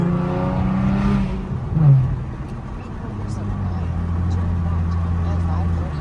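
V6 Ford Mustang accelerating hard from inside the cabin, the engine note climbing through a gear then settling to a lower steady drone, with a brief whir as the wheels spin; a driver talks over it.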